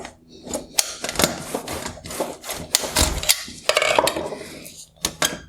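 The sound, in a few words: prying out top bracket of BMW 4 Series bi-xenon headlight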